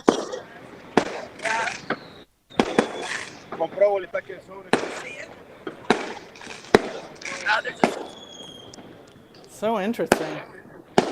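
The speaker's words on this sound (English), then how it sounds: "the fireworks have started" Fireworks exploding at a concert in Bogota, a long series of sharp cracks and bangs going off at irregular intervals, under lively crowd noise and people talking nearby.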